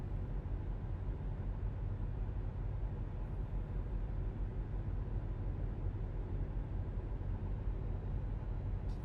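A new Volvo VNL truck on its stock engine, driving at a steady pace, its low rumbling drone constant and unbroken under road and cab noise, with no talk.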